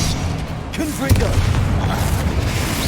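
A Confringo fire spell exploding during a Hogwarts Legacy battle: a deep, heavy boom with a rumbling tail amid constant game noise, loud and close, with a voice speaking over it.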